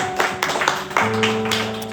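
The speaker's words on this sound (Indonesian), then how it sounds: "Mari berikan tepuk tangan buat Tuhan kita." A church congregation claps along during worship, with scattered, slightly uneven handclaps ringing out over sustained music in a reverberant hall.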